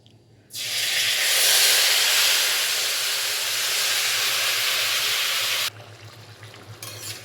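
Raw meat dropped into a hot pan of oil with cumin, bay leaf and dry chili gives a sudden loud, hissing sizzle that holds steady for about five seconds, then cuts to a quieter crackle.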